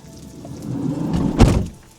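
A caravan door slides and shuts with a single dull thunk near the end of a short, soft rustle, close by, with no talking.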